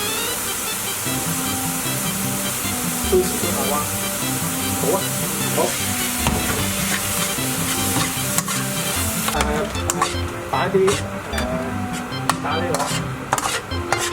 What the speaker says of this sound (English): The marinated beef from earlier, we'll put it in.